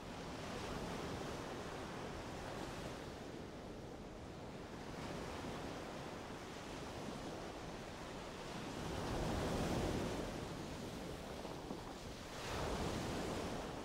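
Waves wash onto the sand of an Arabian Sea beach in soft, broad surges, rising and falling in a slow rhythm with light wind noise and no voices.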